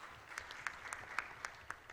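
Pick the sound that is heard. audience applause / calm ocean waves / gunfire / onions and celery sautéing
audience applause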